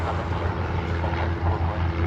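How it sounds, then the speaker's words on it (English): Lanai Air propeller plane departing toward Lanai from a Hawaii airport, heard as a steady low droning engine rumble with a pulsing throb, continuous and fairly loud over the short span. "that's Lanai Air heading off to Lanai."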